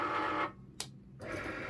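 A Cricut cutting machine whirs and hums as it tries to feed vinyl loaded without a mat, with a brief sharp click in the middle of a quiet gap before the motor noise resumes, moderately close.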